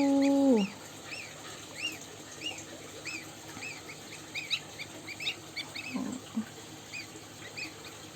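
High, thin peeping chirps repeat steadily from newly hatched Chinese and Emden goslings close by, with a brief low tone at the start and soft shuffling underneath.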